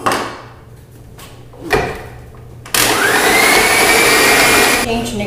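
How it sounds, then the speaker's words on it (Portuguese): An electric mixer beats egg whites for an orange cake made with peel. After a few quiet knocks and clatters, the motor switches on partway through and holds a loud, steady whine to the end. "Agora vamos passar as claras aqui, ó, tá? Pra bater."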